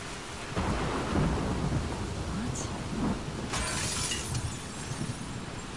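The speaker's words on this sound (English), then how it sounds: "every once in a while a crackle of thunder will match like with the wind blowing" A thunderstorm in The Last of Us Part II brings loud, steady rain and wind, with crackling bursts of thunder rising over the downpour. There is no speech.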